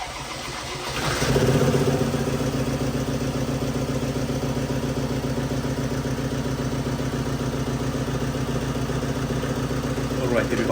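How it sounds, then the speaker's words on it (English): A Ford Transit Custom van's 2.2 TDCi diesel engine cranks briefly, catches within about a second, then settles into a steady, even idle that carries on uninterrupted at close range. "I am going to start the vehicle for the first time right here on the video"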